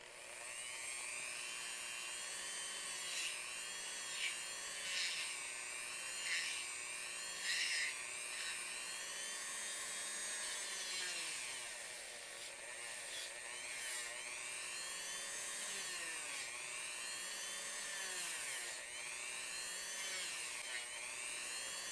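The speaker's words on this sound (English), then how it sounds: "Do any final touch-up sandings." A small tool sands the inside of a custom Skeletor action figure's loin cloth with a faint, continuous whirring whine that rises and dips in pitch as it works, with no talking.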